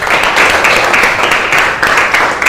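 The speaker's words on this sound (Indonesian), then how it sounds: "Tepuk tangan semuanya." A class of students claps together in a classroom, loud and close, a dense rapid patter of many hands with a slightly pulsing rhythm and no speech over it.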